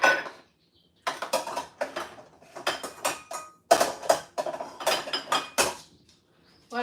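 Kitchen knife mincing onions on a cutting board: bursts of quick, crisp rhythmic chops with brief pauses between runs, close and fairly loud, no voices.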